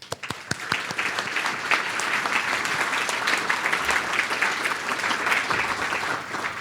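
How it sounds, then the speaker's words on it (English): Enthusiastic audience applause at a Silicon Valley Hall of Fame inductee banquet, a dense, steady patter of many hands clapping close by, starting with a few scattered claps and continuing evenly throughout. "Let's give him a big hand again."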